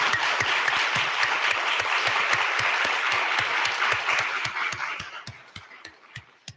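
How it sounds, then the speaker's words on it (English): Vigorous audience applause at an academic conference opening keynote in Chapel Hill, North Carolina, dense and loud for several seconds before thinning out to a few scattered claps at the end. "if we even just give them a big round of applause"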